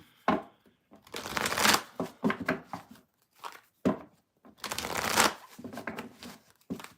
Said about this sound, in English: I'm going to shuffle, read the chat, and move on to Gemini.